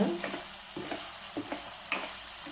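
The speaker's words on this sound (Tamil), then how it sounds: "இப்போ ஸ்டவ்வை நல்லா ஆன் பண்ணிவிட்டு போட்டு கிளறி ஒரு 2 நிமிஷங்க" Soya chunks fry in a pan on the stove, giving a faint steady sizzle broken by several sharp scraping stirs at irregular intervals.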